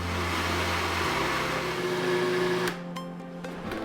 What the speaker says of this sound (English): I'm going to add it to this blender and rinse it